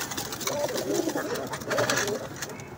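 Pigeons coo in a loft, soft throaty rolling calls repeating close by over a steady busy background with no clear talk.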